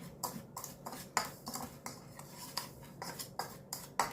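Cut onions and pickle spices are mixed in a bowl with a spoon, making close, rhythmic scraping and clinking strokes with no talking.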